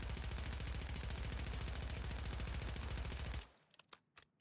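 An AMR9 submachine gun firing in Warzone, a single loud, rapid continuous burst lasting a few seconds before cutting off, then scattered faint clicks and taps.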